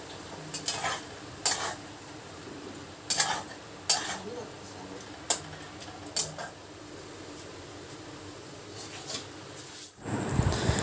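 Dishes and cutlery clatter beside a gas stove as a plate is washed, with a series of sharp, irregular clinks and scrapes over steady background noise, ending in a louder burst of sound.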